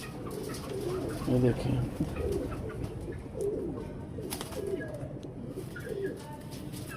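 Hino breed pigeons coo in low, repeated throaty calls, fairly close and steady throughout, with someone speaking briefly over them.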